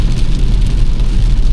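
Heavy rain falling during a car journey to Delhi, a loud, constant rush of rain on the vehicle mixed with low road rumble and no voices.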